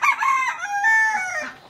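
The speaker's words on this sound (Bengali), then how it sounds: "কি করে বেড়াচ্ছে এই মোরগটা দেখেছে না" A desi rooster lets out one loud, close crow that rises and then trails off over nearly two seconds, with no other sounds around it.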